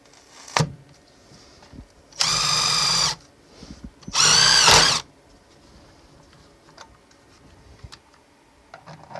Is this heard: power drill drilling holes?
yes